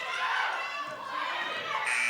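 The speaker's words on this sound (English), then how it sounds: "Didn't get it off before the buzzer." A shot clock buzzer sounds near the end of the clip in a high school women's basketball game, Caledon vs. Bill Crothers, a steady tone rising over the loud, continuous roar of the gym crowd.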